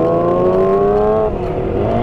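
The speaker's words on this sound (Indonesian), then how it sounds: "Nah, tanjak tarik gas." A Kawasaki ZX25R motorcycle engine revs hard as the throttle opens on an uphill climb, a loud high-pitched whine rising steadily, then dipping briefly and climbing again, with no talking.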